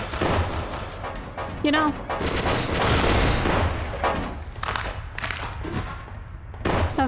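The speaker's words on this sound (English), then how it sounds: "SMG is getting a workout today" Rapid bursts of SMG fire from a first-person video game, harsh clustered volleys coming in uneven waves with short gaps, mixed with game effects and a voice talking over parts of it.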